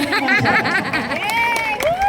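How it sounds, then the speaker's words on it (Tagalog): Audience at a senior basketball game in the Philippines claps and murmurs, with a nearby voice talking and laughing over the steady applause. "Bigyan po natin ang palakpak sa inyo."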